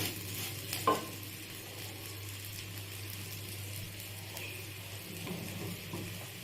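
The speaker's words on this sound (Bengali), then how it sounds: "গ্যাসটা বাড়িয়ে দিয়ে কিন্তু চালটা ভাজা ভাজা করতে হবে বেশ কিছুক্ষণ" Rice fried over a raised gas flame and stirred in a pan for basanti pulao gives a soft, steady sizzle with faint stirring scrapes over a low constant hum, without any talking.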